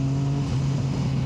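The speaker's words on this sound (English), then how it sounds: "The sound is just spot on and it just pops and bangs with that, I think it's a Beowulf exhaust." A Triumph Sprint GT 1050 motorcycle with a Beowulf exhaust accelerates on the road, its engine drone steady and loud throughout, a continuous hum with a strong low tone and wind rush.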